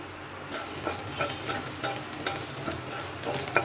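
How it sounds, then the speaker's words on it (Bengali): Food sizzles and fries in hot oil in a pan while being stirred, a steady crackling hiss broken by repeated scraping strokes. "তেলে দিয়ে দিলাম, একটু ভেজে নিই"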